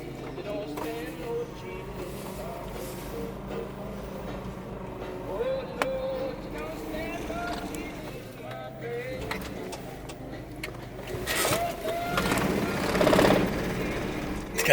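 A Suzuki Every manual van driving with its engine running, a steady low engine drone under road noise throughout, rising louder near the end as it accelerates, while people talk inside the cabin.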